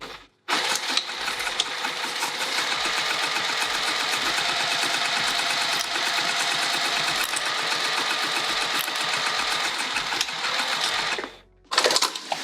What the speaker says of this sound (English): Let's go to the machine and sew this closed.